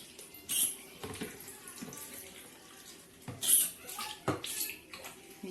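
Water runs from a tap over the dust container of a red Britânia 1000W upright vacuum cleaner, a steady close wash with brief louder splashes as the container is rinsed.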